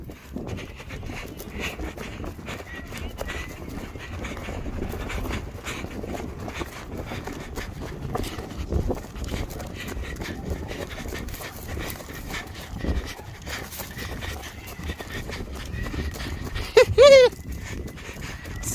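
Hunting dogs chasing a wild boar, a busy mix of panting, scuffling and rustling movement through brush that runs throughout, with a brief sharp yelp or squeal near the end.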